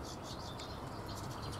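Confiscated smuggled finches, fitted with scientific leg rings, chirp in a continuous busy chorus of high tweets over a steady noisy background, with no one talking.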